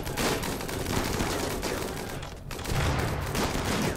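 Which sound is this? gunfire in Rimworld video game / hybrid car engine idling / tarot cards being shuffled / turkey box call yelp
gunfire in Rimworld video game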